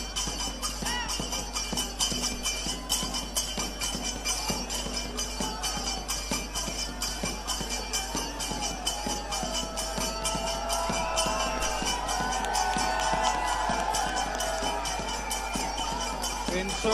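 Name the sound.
crowd applauding and cheering to welcome Dushyant Chautala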